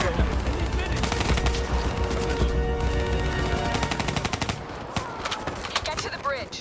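Dense automatic gunfire fills a Call of Duty: Black Ops 3 battle as cover fire, with rapid bursts and scattered shots throughout, loud and continuous, with game voices talking over the combat.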